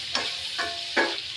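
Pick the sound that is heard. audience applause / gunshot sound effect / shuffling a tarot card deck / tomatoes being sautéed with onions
tomatoes being sautéed with onions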